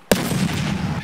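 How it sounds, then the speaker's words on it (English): A grenade detonating in a war video game, one sharp loud blast followed by a sustained roaring rumble for about a second, alone with no talk. "Oh, that's a grenade!"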